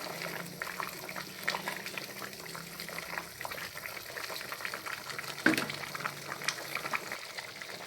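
A pot of water at a rolling boil for a Thai soup, giving a steady bubbling hiss close by with a brief clink partway through, and no talking.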